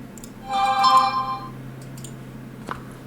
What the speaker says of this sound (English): That was a phone notification.